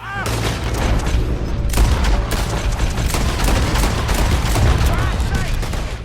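Gunfire in the Western action video game Red Dead Redemption 2: a dense, steady barrage of shots and booming reports that carries on loudly through the whole stretch with no pauses.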